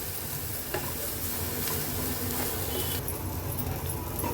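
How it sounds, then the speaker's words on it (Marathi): Tiny baby shrimp (jawla) sautéed with masala in a pan over low flame, giving a steady, close sizzle with occasional scraping stirs throughout. "एक दोन ते तीन मिनटासाठी आपण ह्याला व्यवस्थित परतून घेणार आहोत म्हणजे जवळा थोडा शिजला जाईल आणि मसाला जवळ्याला व्यवस्थित कोट होईल"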